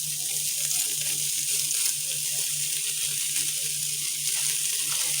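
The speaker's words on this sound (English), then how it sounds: "We're going to let this sit here and simmer and get real good and brown." Kielbasa hashbrown casserole simmering and browning inside an Instant Pot gives a steady, close hiss of frying and sizzling that runs without a break. A faint low hum sits under it, and nobody speaks.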